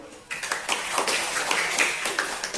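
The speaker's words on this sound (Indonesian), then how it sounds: "boleh tepuk tangan dulu" Classroom students clapping after a group presentation, a short burst of brisk, fairly close claps.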